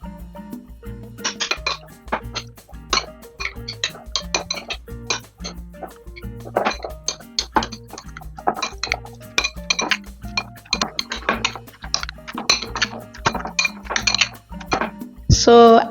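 Cucumber, salt, black pepper and mayonnaise are stirred in a bowl with a spoon, a quick run of light clinks and taps against the bowl in an uneven, busy rhythm, close by.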